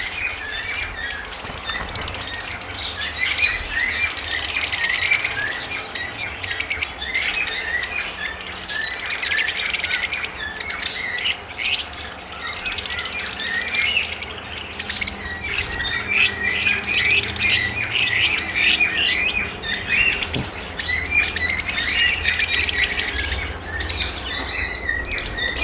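Lovebirds kept as breeder pairs fill the space with constant overlapping chirps and harsh squawks, a dense, busy chorus of many birds close by with no pauses.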